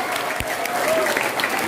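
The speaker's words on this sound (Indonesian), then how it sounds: "Tepuk tangan dulu untuk Fatir." Applause breaks out for Fatir, a child reciting prayers at a Maulid gathering, a short dense burst of clapping from an audience with some voices mixed in.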